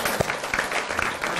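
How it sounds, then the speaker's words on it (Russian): Audience at a university talk show in Kazan breaks into brief applause, a dense patter of many hands clapping at moderate volume with a few louder claps near the start. "заслуживает аплодисментов"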